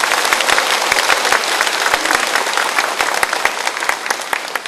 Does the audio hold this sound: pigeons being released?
no